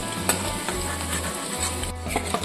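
Shrimp coated in turmeric and salt fry in hot mustard oil, a steady close crackling sizzle with small pops and faint stirring scrapes, no voices.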